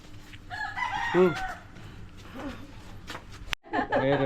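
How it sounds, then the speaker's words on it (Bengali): A rooster crows loudly nearby at a village fair with rising harmonic calls, followed by other fowl sounds and busy background voices. "এই দেখো মুরগি কতগুলো।"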